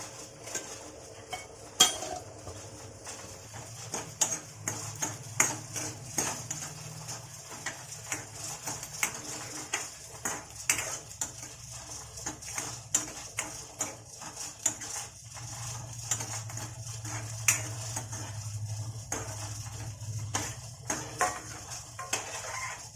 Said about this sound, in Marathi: मी ह्या कढईमध्ये काय करणार आहे खोबरं भाजून घेणार आहे